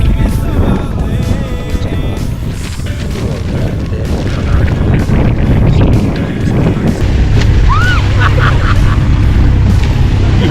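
Strong wind buffets and roars across the microphone during a boat ride to Kalanggaman Island, loud and continuous with low rumbling gusts, while the boat's motion and water churn underneath.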